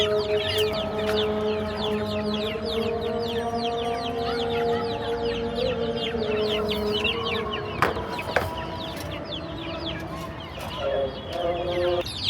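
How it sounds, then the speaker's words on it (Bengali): A flock of chickens and chicks on a farm clucks and cheeps busily as they crowd eagerly around food, continuous overlapping calls close by with a few sharp knocks, no one speaking. "মুরগিগুলো খাবারের জন্য পাগল হয়ে গেছে, জাস্ট পাগল।"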